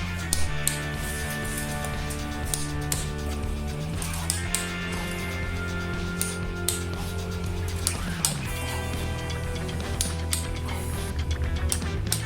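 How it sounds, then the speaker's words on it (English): Ratcheting torque wrench working in repeated clicking bursts as the cylinder head bolts are tightened on a Yamaha FZR 1000 EXUP engine during restoration, steady mechanical clicks over a constant low hum, no talking. "Now we're gonna torque down the cylinder head."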